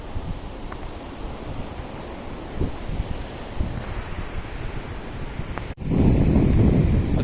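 Ocean surf at Tarkarli beach rolls in as a steady broadband wash with soft breaking swells, then a louder, fuller wave surge in the final seconds; there is no talking.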